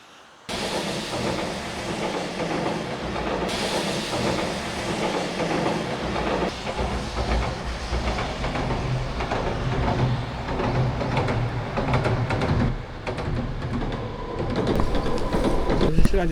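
A short one- or two-car local train rolls past on a railway, a loud continuous rumble with clattering wheels that holds steady for many seconds and swells again toward the end.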